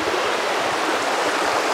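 Mackenzie Brook, a woodland stream in Nova Scotia, flows with a constant, loud, close babbling rush of running water and no voices.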